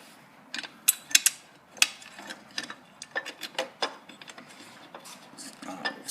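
Screw being turned by hand into a part on a Honda XR600R carburetor setup, a close series of small metallic ticks and ratcheting clicks at an uneven rhythm.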